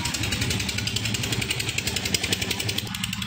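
Motorcycle engine running close by, a rough rapid chugging throb that stays loud and steady throughout with only slight wavering.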